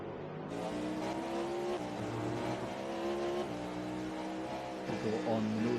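GTP race cars at the Daytona 6-hour race drive through the International Horseshoe, steady engine drones shifting pitch as they brake and accelerate, under a commentator's voice.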